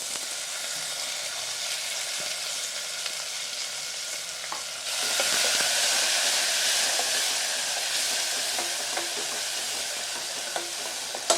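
Chopped tomato added to cooking chana dal in a pan: a continuous close sizzle that swells louder midway, with occasional spatula scrapes and taps as it is stirred, no voices.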